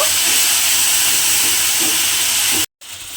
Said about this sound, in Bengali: সর্ষে পোস্ত আর কাঁচা লঙ্কা বাটাটা দিয়ে তেলের মধ্যে একটু নেড়ে নিয়েছি।